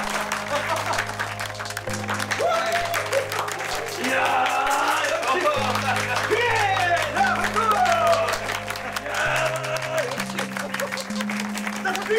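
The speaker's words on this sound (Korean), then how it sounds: "박수 쳐, 박수. 박수." Group of people applauding indoors in a Korean baseball drama scene, clapping running under a man's speech and background music that changes between chords; moderate, continuous clapping throughout.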